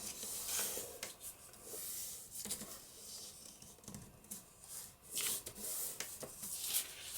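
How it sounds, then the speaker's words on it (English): Paper folded over and creased by hand while making a papercraft card, giving soft rubbing and scraping strokes in a few bursts, close and fairly quiet with no talking. "And I'll fold that over."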